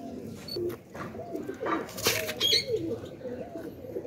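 Many pigeons cooing together in a cage, a dense, continuous murmur of low soft coos with occasional wing flutters and brief sharper sounds.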